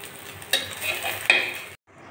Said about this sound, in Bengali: আমি একটা যে বাটিতে তুলে নিচ্ছি।